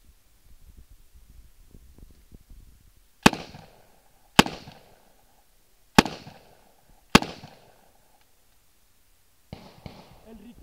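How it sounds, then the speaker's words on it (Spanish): Thompson .45 ACP submachine gun fired as four sharp, loud single shots spaced about a second apart, then two fainter reports, with murmuring voices before the first shot. "El recoil que tiene esta ametralladora es absolutamente nulo, no tiene absolutamente nada de recoil"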